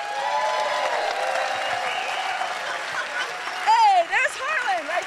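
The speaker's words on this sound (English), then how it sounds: "we just wanted to give a little round of applause to Harlan" A small round of applause at a documentary Q&A at DocLands, steady clapping throughout, with people talking and whooping over it toward the end.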